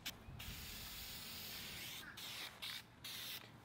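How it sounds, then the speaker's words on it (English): An aerosol can sprays lacquer over a charging stand and its white wire, a continuous close hiss broken by several brief pauses as the nozzle is released and pressed again. "We're gonna use some spray lacquer"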